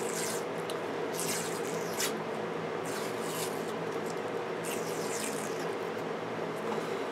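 Hockey tape wraps diagonally down a lacrosse stick to build a homemade butt end, giving a steady close rubbing and peeling rasp with brief crackling bursts as the tape pulls off the roll.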